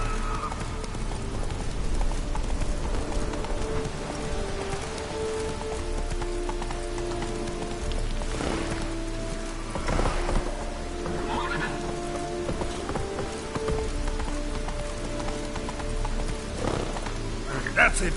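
Roach, a horse in the video game Witcher 3, trots with steady clip-clop hooves through falling rain, with an occasional whinny and a voice urging the horse on.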